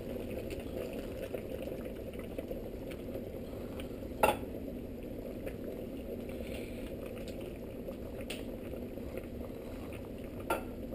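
Tomato sauce stirred into chicken afritada in a cooking pot, heard as a steady low bubbling simmer with soft liquid movement and a couple of faint utensil knocks, continuous and quiet with no talking.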